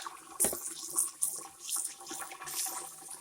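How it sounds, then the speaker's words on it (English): Water splashes and runs over a fresh walleye fillet as it is rinsed, with soft irregular trickling and a few brief splashy bursts, close by and fairly quiet. "You just rinse that out like that."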